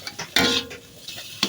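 Food is fried and stirred in a pan for a quick meal, with scraping and clinking of a utensil against the pan in short bursts over a soft sizzle.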